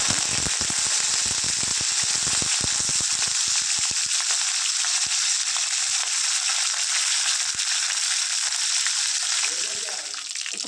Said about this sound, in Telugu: జీరా ఆవాలు వేగాక కొద్దిగా కరివేపాకు కొద్దిగా ఎండుమిర్చి